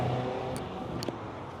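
Traffic on a busy road, a continuous close rumble of passing cars with engine whir, no talk.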